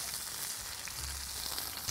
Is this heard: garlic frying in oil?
yes